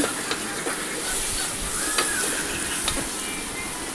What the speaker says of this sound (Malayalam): എല്ലാം കൂടെ ഒന്ന് മിക്സ് ചെയ്ത്